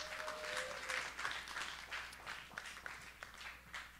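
Audience at a live comedy show applauding a comedian, a steady crackling wash of many hands clapping at a moderate level, with faint cheering mixed in and no speech.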